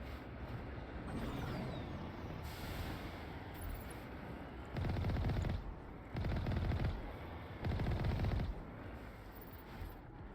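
A vehicle-mounted cannon fires in the video game Mass Effect, several loud sustained bursts of rapid booming fire over engine rumble and battle noise.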